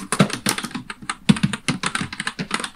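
Close computer keyboard typing while a Fortran program is written: bursts of quick, crisp key clicks with brief pauses in between, loud and alone without talk.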